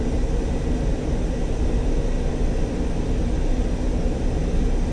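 Steady, loud engine drone of an aircraft taxiing toward the runway in the World Combat Simulator flight game, a continuous broadband hum with no talk.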